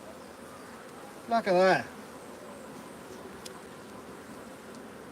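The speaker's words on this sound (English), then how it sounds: "There was just too many bees." Honey bees buzz around opened hive supers at an apiary, a brief close buzzing burst over a steady outdoor hiss, with a short spoken remark nearby.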